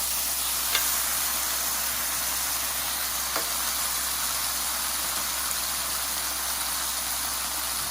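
Honey teriyaki meat sizzling steadily in a hot pan as it caramelizes, a constant loud hiss with a couple of brief clicks from flipping.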